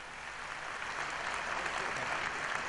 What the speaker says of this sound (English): Give him a big round of applause, my friends.